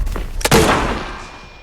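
Gunfire in the shooter game Arena Breakout: a couple of quick thuds, then one loud, close shot around the half-second mark with a long echoing tail that fades out, no talking.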